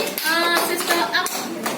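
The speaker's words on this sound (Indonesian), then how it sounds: "Beri tepuk tangan dulu untuk temannya." Schoolchildren in a biology class clap for a classmate, a short burst of scattered hand claps from nearby with some children's voices mixed in.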